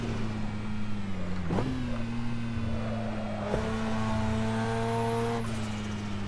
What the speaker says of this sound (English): just the sheer sound of the rotary engine